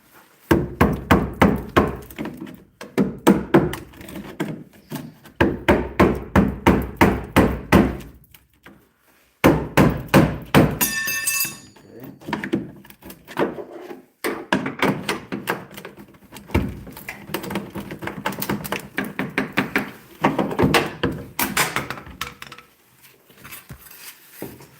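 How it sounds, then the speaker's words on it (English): Drywall breaking and cracking as a body kit mold is pried apart, with loud close repeated knocks, thunks and crunches in bursts with short pauses. "What you hear breaking is the drywall between the two pieces that was making the final build-up for the sides."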